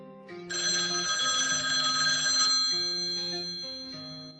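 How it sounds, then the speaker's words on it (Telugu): A telephone rings loudly and steadily indoors, a continuous electronic warble that holds for several seconds, then fades a little toward the end, with no voices. "అరే నీకు ఫోన్ రా."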